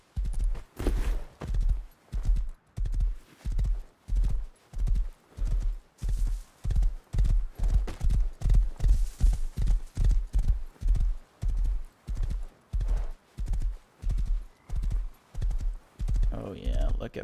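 A horse's hooves clip-clop steadily in the video game Rust, a long, loud, even rhythm of strong hoofbeats that runs throughout with a faint background hiss.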